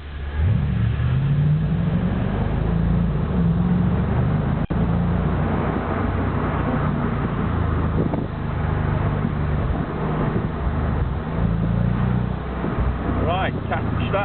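A Porsche Boxster sports car drives along the Stelvio Pass, its steady engine drone running throughout under continuous talk, with a brief rising rev near the end.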